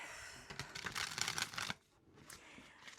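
Tarot cards being shuffled, a quick close flurry of papery riffling clicks for about a second and a half, then a pause and a few fainter card slides, quiet and without talk.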